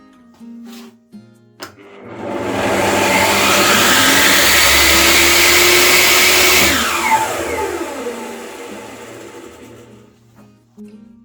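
An electric motor driving a table saw starts through a soft starter, its whine rising gradually over a couple of seconds to a loud steady hum, then winding down and fading out near the end.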